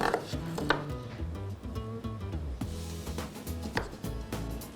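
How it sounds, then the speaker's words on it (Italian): A knife cuts through broccoli stem and florets on a board with repeated close chopping thuds and snaps, over steady background music. "Stacco il gambo e poi le cimette. Le più grandi posso anche tagliarle a metà."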